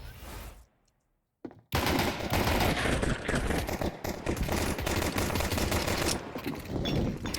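Gunfire in Counter-Strike during a NAVI vs fnatic match at BLAST Premier Open London 2025: dense, loud bursts of rapid shots that fill most of the clip after a brief silent gap near the start.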